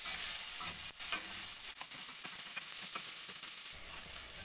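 Garlic, onion and long chili frying in a pan with steady sizzling and crackling, interrupted by several close scraping stirs, loud and continuous with no talk.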